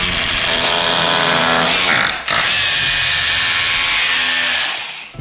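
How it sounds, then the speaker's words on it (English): An SDS drill bores straight through a whole brick during a room makeover; loud, steady grinding hammer-drill whine close by, with a brief break midway, then continuing before winding down, no talk. "Get your SDS, drill straight through."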